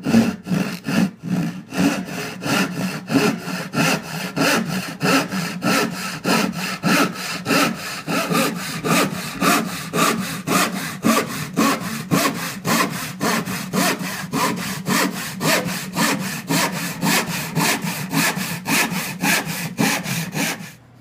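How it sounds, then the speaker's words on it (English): A hand saw cuts wood along a compound angle in a workshop, with a steady, rhythmic rasp of long back-and-forth strokes, loud and close, continuing without talk for about twenty seconds. "The beauty of hand saws is now that I can see this line, I can saw to it regardless of the crazy compound angle it's created."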